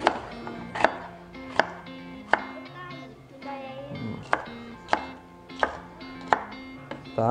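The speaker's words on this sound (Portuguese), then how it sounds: "eu vou cortar aqui, ó, meio pimentão" Half a bell pepper being cut with a knife gives sharp, regular chopping thuds on a board, about one per second, close and clear while someone talks in between.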